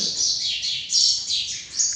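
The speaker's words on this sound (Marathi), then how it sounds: "चिमण्या घरात आली का चिमण्या घरात" House sparrows chirping indoors, a close, busy run of bright overlapping chirps and tweets that rises and falls in short bursts, with no talk.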